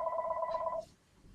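A telephone rings out in a fast repeating electronic trill that cuts off abruptly partway through, leaving a faint, quiet room behind it.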